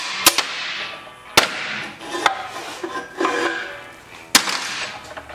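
Several sharp, loud impacts ring out irregularly, like a hammer striking, with faint rustling and clatter in between.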